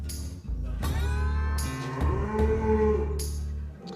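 Hérens cattle in the Alps low loudly and close by, one drawn-out, rising moo filling most of the moment, with other livestock faintly audible around it.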